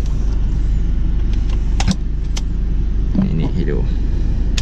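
A key goes into a car that will not drive until it is inserted, and the car powers on. A few sharp clicks sound near the middle, under a steady low cabin hum and someone talking.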